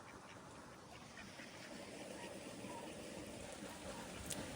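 Ducks let out into an open farm field for the first time quack amid a steady, dense wash of outdoor noise that stays constant throughout.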